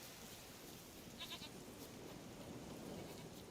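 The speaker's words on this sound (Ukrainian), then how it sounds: "А, то коза." Goat in a video game, a short bleat around the middle heard faintly beneath a dense, steady game soundscape of ambient noise.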